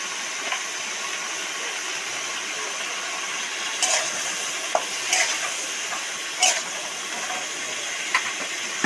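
Cauliflower frying in a generous amount of oil in a pan for vegetarian khichuri, a steady loud sizzle and hiss with a few scraping stirs of a spatula, no talking.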